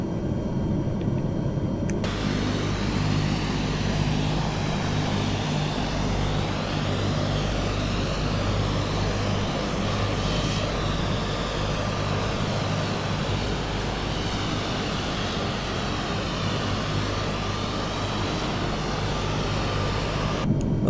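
C-130 Hercules engine 3 spinning up during startup in a flight simulator, a steady low turbine rumble and whine that holds constant for the full stretch, with a brief click of switches at the start.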